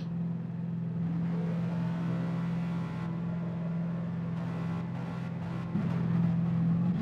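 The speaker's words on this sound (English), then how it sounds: "Revving your cars. Don't you realise it burns fuel at the start" Race cars in the GT Sport video game idle and rev on the starting grid, giving a steady low engine drone with rising revs and a louder surge near the end, and no talk.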